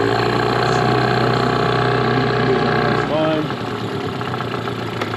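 Mercury 15 hp outboard motor on a small boat running in reverse, a steady close engine drone that drops slightly in level partway through while staying on at idle.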